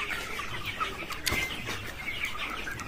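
Chickens and chicks on a poultry farm cluck, chirp and flap their wings, a busy close-up flock sound with a few sharp wingbeats and steady background peeping.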